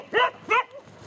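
A dog barks twice in quick succession during a dog and bull fight, two loud close yaps followed by a softer trailing whine.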